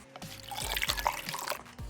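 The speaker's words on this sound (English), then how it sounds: "Now let's add the water." Water is added to a slime mixture in a container, giving a short, close trickle and drip lasting under two seconds.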